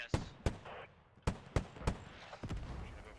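Mortar fire in a competitive video game match, about six sharp booming impacts at uneven intervals over a few seconds, faint and distant-sounding with a low rumbling tail after each.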